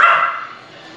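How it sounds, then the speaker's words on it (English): A single short, sharp dog bark or yip sounds close and loud, then fades into a faint tail, with no talk over it. "they're barking at me for a reason, guys"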